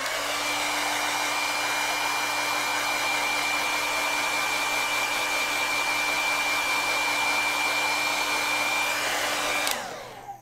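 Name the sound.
hair dryer drying acrylic paint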